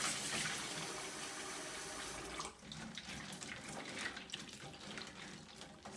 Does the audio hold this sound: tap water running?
yes